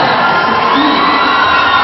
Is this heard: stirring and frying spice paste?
no